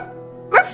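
A person imitating a dog with a single short, sharp bark-like yelp near the end, preceded by a low steady hum.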